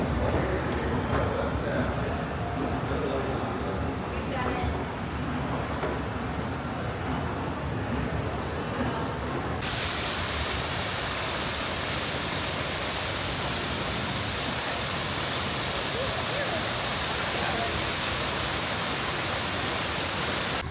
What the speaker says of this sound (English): Here's a really neat view of the fountain coming down the escalator out of the Dolphin.